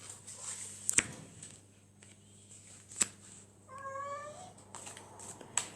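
A cat gives a single clear meow partway through, rising over a quiet room with a steady low hum and a few sharp clicks before and after; no one talks.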